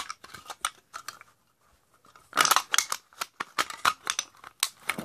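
Crumpling and crunching of a tablet's top as it is being destroyed, a run of sharp crackling snaps and crinkles that comes in quick clusters after a brief quiet gap, close and loud.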